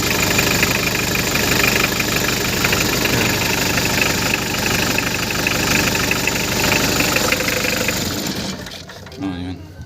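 A Hyundai Grace van's engine idles steadily after starting, a loud, even mechanical rumble with a faint ticking that runs for about eight seconds before cutting off abruptly near the end.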